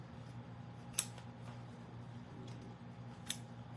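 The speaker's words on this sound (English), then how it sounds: "let's snip off the ends" Scissors snipping off loose ends, two crisp, close cuts about two seconds apart over a quiet background hum, with no talking.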